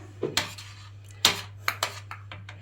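Salad plates set down one after another on a table while chicken and basmati rice are served, a handful of sharp close clinks and knocks of dishes with brief pauses between them, and a steady low hum running underneath.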